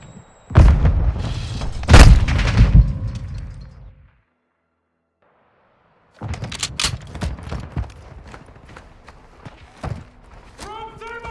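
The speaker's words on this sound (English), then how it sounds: "Throwing flash grenade!" A flash grenade in Modern Warfare 2 on the Shoot House map in Domination mode goes off with loud booms and thuds, then near silence before footsteps and gunfire clatter back in.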